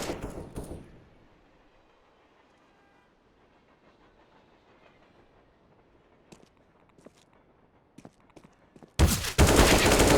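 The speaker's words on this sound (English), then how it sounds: "Those pistols can't do anything." Pistol gunfire in a Counter-Strike match on the Train map, heard as a few scattered sharp shots amid quiet game ambience, followed by a loud burst of dense firing at the end.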